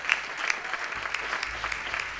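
Audience applause for a guitarist, singer and songwriter at a cultural event; dense, steady clapping from a crowd fills the whole stretch at moderate level.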